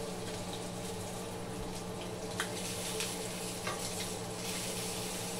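Sausages and small mini pancakes sizzle steadily in a skillet on low heat, a constant close frying hiss with a few faint clinks, and no talking.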